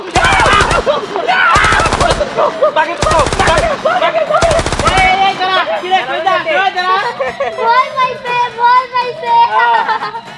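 Cartoon gunfire sound effect: four loud bursts of rapid machine-gun fire in a steady rhythm, followed by excited cartoon character voices chattering over the noise.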